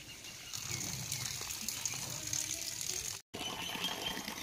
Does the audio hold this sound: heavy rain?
yes